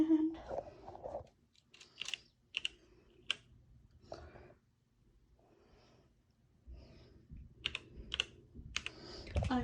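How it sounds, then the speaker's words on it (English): Computer keyboard keys typed in short bursts of quick clicks, with pauses between flurries, heard close up and fairly quiet, with faint breathing in between. "I'm typing in Shirley Jackson."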